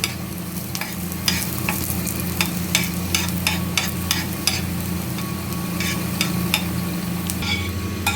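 Something roasts in a pan over a gas flame while a spoon stirs it continuously, scraping clicks repeating in a quick irregular rhythm over a steady close sizzle, with no talking.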